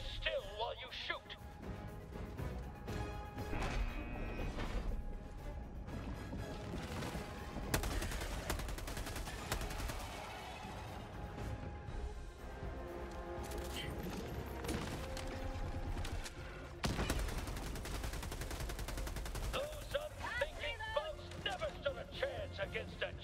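Helldivers 2 gunfire as the player shoots, bursts of automatic fire and mechanical clanks over a steady music and game-effects bed, with voices talking throughout.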